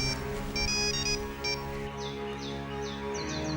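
A mobile phone rings indoors with a bright, melodic electronic ringtone, its chiming phrases repeating steadily and clearly for several seconds with no one talking.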